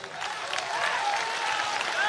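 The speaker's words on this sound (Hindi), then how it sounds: "बजाओ ताली।" Dense, continuous applause from a large crowd at a religious gathering fills the space, loud and sustained with mixed claps and some voices in the background.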